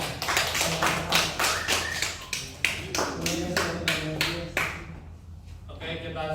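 Students in a classroom clap together in a quick, rhythmic pattern of distinct, close claps, with voices talking over and between them.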